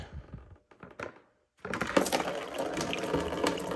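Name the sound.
coolant draining from Q50 heat exchanger line into bucket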